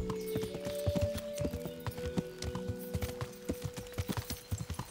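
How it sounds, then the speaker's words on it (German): Horse hooves clip-clopping in a steady, quick rhythm as a rider travels on horseback in Kingdom Come: Deliverance, near and clear over a low game soundtrack with no talking. "Ja, mit dem Pferdchen geht das dann doch deutlich schneller hier."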